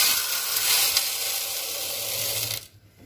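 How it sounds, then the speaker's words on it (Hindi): Half a cup of sugar whirls in an electric kitchen grinder, giving a steady, loud, dense grinding roar that cuts off abruptly near the end, leaving quiet. "लेमन केक बनाने के लिए सबसे पहले हम लोग ग्राइंडर में हाफ कप शुगर ऐड कर लेंगे"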